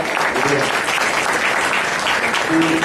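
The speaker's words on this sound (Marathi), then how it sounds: "त्याच्या बाबांसाठी एकदा इथे जोरदार टाळ्या होऊ द्या." An audience applauds at a poetry interview event at a college in Thane, with dense, loud, continuous clapping filling the whole stretch without a break.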